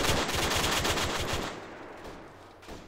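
In the video game Arma 3, loud, rapid automatic gunfire crackles in dense overlapping bursts, then tapers into fainter, more distant shots.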